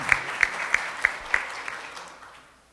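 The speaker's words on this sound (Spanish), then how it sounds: "un fuerte aplauso para ella nuevamente" Brief applause after a doctoral program presentation, a handful of sharp separate claps close by over softer background clapping, fading out within a few seconds.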